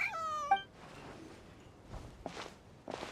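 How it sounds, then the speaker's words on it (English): A cat in Genshin Impact video game gives one clear, close meow at the start, followed by soft scuffling and light footstep-like sounds. "Even a passing cat can't help but stop in its tracks and look up in anticipation."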